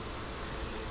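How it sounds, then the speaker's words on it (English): Honeybees clustered on a nuc frame, a faint continuous buzzing hum with a steady hiss and no breaks. "And it has bees hanging at the bottom"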